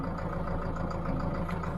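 Zetor tractor engine idling at an agricultural fair in Konya, a steady low mid-pitched chug that holds evenly throughout the short stretch with no voices over it.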